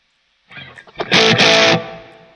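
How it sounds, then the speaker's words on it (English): Distorted electric guitar, a Supero S6616, through the Line 6 POD HD500 classic distortion model: a few picked notes, then two loud, gritty strummed chords that ring and slowly decay. "The classic distortion."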